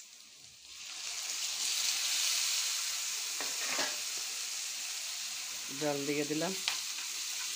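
Water is poured into a pan of fish curry frying in hot oil, setting off a loud, continuous hiss and sizzle that fills the whole span, with someone briefly speaking over it near the end.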